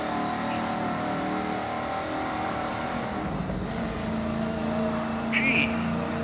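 A car engine in a video game drones steadily and loudly throughout, holding a constant roar with slight shifts in pitch.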